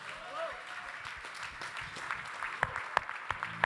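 An audience at a supply chain directors' awards gala applauds a prize winner, a dense patter of clapping with a few louder claps toward the end, while people talk over it.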